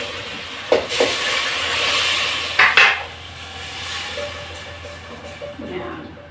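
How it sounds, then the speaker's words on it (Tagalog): Mung beans tipped into a pot of sautéed onion and garlic for ginisang monggo, heard as a few sharp clatters and scrapes of dry beans and utensils against the pot over a steady low hiss, no talking. "Ilalagay ko na yung aking munggo."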